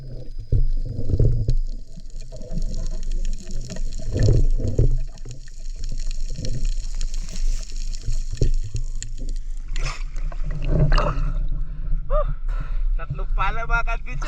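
Underwater while diving for octopus, muffled low rumbles and bubbling surges roll through the water, with crackling clicks and a few bubble bursts toward the end.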